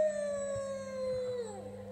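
A voice imitates a terrible werebear howl on a story tape, one long sustained wailing tone that slowly falls in pitch and trails off, heard close and alone.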